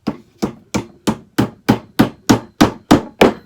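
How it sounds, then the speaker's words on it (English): A hammer strikes parts of a Walmart Queer Eye Farnsworth five-drawer mid-century modern dresser drawer together: eleven close, sharp knocks at a steady, even pace, alone and up close. "So I'm going to hammer it down."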